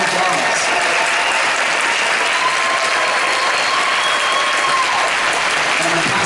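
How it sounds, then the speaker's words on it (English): Sustained audience applause fills a concert hall at a NorCal concert band performance, a steady dense wash of clapping throughout with no voices standing out. "Please give her a warm round of applause."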